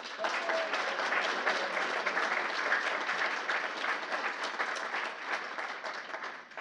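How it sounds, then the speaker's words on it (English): An audience claps through a full session event, a dense, steady wash of applause from many hands that holds even and sustained before easing slightly at the end. "she deserves a round of applause, too"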